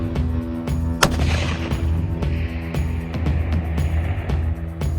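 Single loud rifle shot at a long-range shooting practice range, a sharp crack followed by a rolling echo over a steady low background hum.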